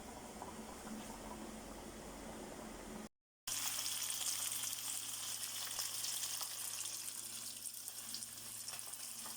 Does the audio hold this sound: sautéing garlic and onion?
yes